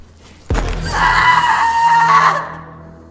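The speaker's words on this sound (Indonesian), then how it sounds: "Gadis tersebut menangis menjerit kesakitan." A girl screams in pain after a hammer blow in the horror film The Were Witches, a sharp impact followed by a loud, sustained high-pitched scream lasting about two seconds, then cutting off.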